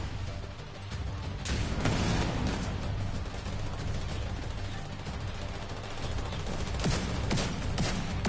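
Sustained gunfire in The Division 2 video game, with bursts of automatic fire and sharp individual shots layered over a rumbling, chaotic battle bed, loud and continuous for several seconds.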